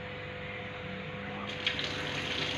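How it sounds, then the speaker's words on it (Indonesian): Water running from a tap switched on with the elbow during a handwashing step in a clinical skills lab, a steady hiss of flowing water that grows a little louder partway through. "pertama itu kita hidupkan air keran dengan siku-siku"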